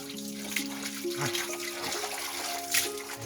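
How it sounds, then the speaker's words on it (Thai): Water poured and splashing while pigs are bathed in a pen on a mountain forest farm, gushing and trickling steadily with background tones. "ก็อาบน้ำให้หมูของเราเนี่ยนะครับ"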